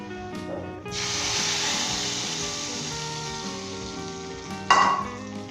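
Hot tadka tempering hits a pot of moong dal in a Punjabi dhaba-style dish, bursting into a loud, steady sizzle that holds for several seconds, then flares again briefly near the end.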